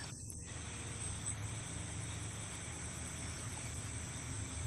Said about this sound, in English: Them damn crickets, they talking loud out there